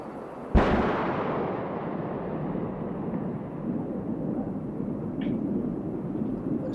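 A single sharp sonic boom from a SpaceX Falcon booster returning to land at Cape Canaveral cracks loudly and close, then gives way to a long rolling rumble that lingers without fading.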